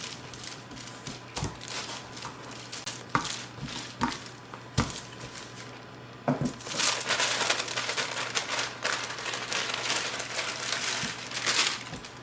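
Floured dough is rolled out on wax paper in a home kitchen, giving a steady run of close crinkling and soft thumping pressure sounds, busier and louder in the second half, with no talk.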